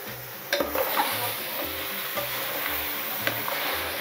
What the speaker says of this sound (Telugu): నాటుకోడి వేసేసుకుందాం.